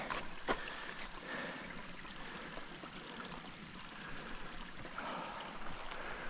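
Small creek near a remote off-grid cabin in Alaska, water flowing in a steady close rushing wash with light trickling and occasional faint knocks.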